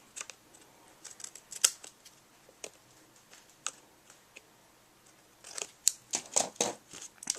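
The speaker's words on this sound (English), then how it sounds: "I'll just cut off the end here with my cutter bee scissors." Sharp crisp snips of scissors cutting paper for a card, a few scattered clicks then a quicker cluster of cuts near the end, close and fairly quiet.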